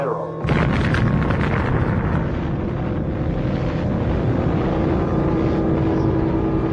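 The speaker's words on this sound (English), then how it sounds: "the first atomic bomb was detonated." The first atomic bomb detonation, with roughly 20,000 tons of TNT equivalent, heard as a sudden loud blast that swells into a sustained, heavy, rumbling roar that fills the whole clip.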